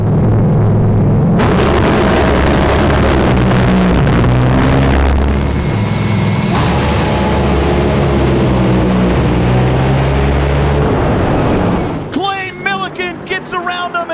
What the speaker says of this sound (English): The final round of Top Fuel at the Big Go.